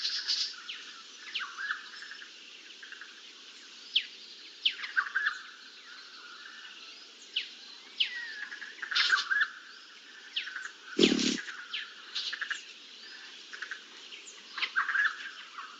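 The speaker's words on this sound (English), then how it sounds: "The mistletoe bird knows exactly how to extract the fruit." A mistletoebird calls in a quiet natural setting, its thin high chirps and short whistled notes repeating irregularly, fairly close and clear, with one brief lower thump partway through.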